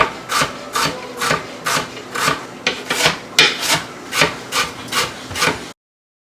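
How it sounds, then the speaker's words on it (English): A knife slices thin strips of cabbage on a cutting board in a run of about a dozen crisp, evenly spaced cuts, close and clear, ending abruptly in silence. "So I'm just gonna thinly slice this cabbage."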